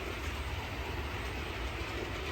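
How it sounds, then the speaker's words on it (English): A model railway locomotive that needs traction tyres runs along the track with a steady, faint rolling rumble and no voices. "school's locomotive, the one that needs traction tyres"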